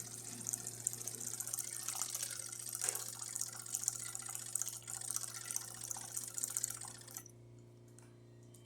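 A Jura Impressa C60 coffee machine dispensing hot water into a small cup, a steady hissing gush over a low machine hum for about seven seconds, then stopping abruptly and leaving only the hum.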